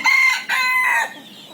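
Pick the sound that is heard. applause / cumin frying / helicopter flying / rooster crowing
rooster crowing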